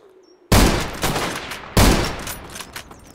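Gunfire in the survival shooter ZERO Sievert: two loud, sharp bursts of automatic shots, each starting abruptly and trailing off into scattered echoing rounds, with nobody talking.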